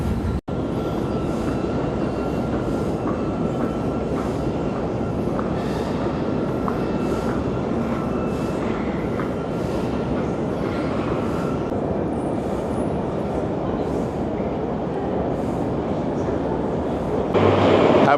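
A Moscow metro train heard from inside a station or carriage, a steady loud rumbling roar with rail hum that continues unbroken, ending in a brief louder surge.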